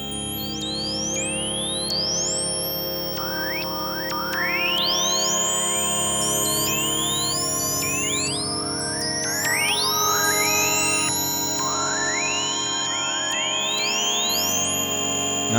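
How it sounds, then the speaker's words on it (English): A Sequential Prophet 10 REV4 synthesizer cycles through randomly generated patches. Rising swooping chirps and sweeping glides layer over sustained chords, dense and continuous with no talking. "I can create new sounds just by holding Enter and 2."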